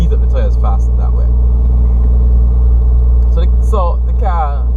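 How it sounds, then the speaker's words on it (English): A car engine holds a low, heavy rumble during a tire burnout, droning steadily and loudly with no clear rev changes, while someone talks over it in short bursts. "So the car doesn't need water to do a burnout."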